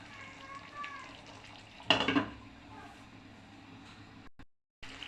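Chicken rezala simmering on low heat in a pan after a stir, with a soft steady sizzle, one brief louder scrape of the spoon near the middle, then a short silence.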